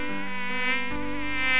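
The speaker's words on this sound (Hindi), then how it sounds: "पहले तो वो राजा के बिस्तर पर भिनभिनाती रही" A housefly buzzes steadily and close by inside a room, a continuous droning whine that swells slightly in loudness over a second and a half.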